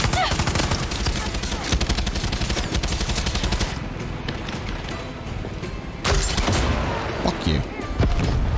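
Sustained rapid gunfire from the video game Far Cry 6, dense bursts of automatic fire crackling almost without pause, briefly thinning mid-stretch before loud volleys resume, with a voice talking underneath.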